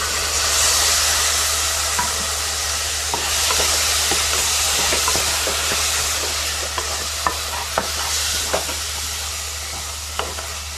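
A coconut and coriander paste fries in a pan for a drumstick, brinjal and potato aamti, giving a steady loud sizzle with repeated scraping stirs and spoon taps against the pan, with no voices.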